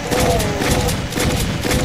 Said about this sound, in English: Firing blindly into the distance.